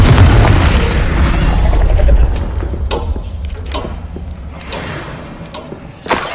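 The Confringo fire spell from the video game Hogwarts Legacy bursts in a loud, deep explosion followed by a long rumbling tail and scattered crackling debris.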